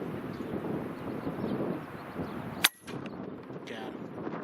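An air rifle fires once during hunting in strong wind, a sharp close crack partway through against constant gusty wind buffeting the microphone.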